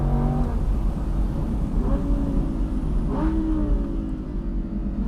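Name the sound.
Audi R8 V10 Plus Spyder engine accelerating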